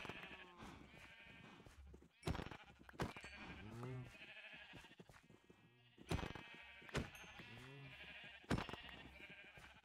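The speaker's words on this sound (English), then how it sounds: "The sheep are literally so populous that they're constantly keeping in the grass cut." Sheep bleat repeatedly in the strategy game Crusader Kings 3, several wavering calls spaced a few seconds apart over a quiet, steady game ambience.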